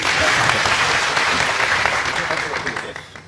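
Audience applause at a French-speaking event greeting a consultant introduced on stage, dense clapping running loud and steady for about three seconds before thinning slightly at the end.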